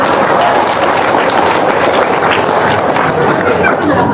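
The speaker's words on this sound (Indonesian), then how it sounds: "Tepuk tangan dong." An audience claps together in a dense, loud burst, many hands at once at a steady level throughout, with a murmur of crowd voices mixed in.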